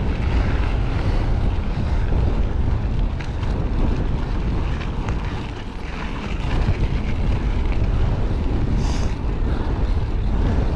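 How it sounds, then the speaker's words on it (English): Strong wind buffets the microphone on a Florida mountain bike trail at Loyce Harpe Park, a loud, continuous low rumble that fills the whole stretch with only slight dips in force and no talk. "it's getting very windy, so apologize if you can't hear me very well."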